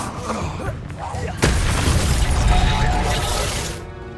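A spell effect in the Hogwarts Legacy video game: a sudden bright crackling burst that lands with a booming, shattering impact, followed by a rumbling tail that fades out.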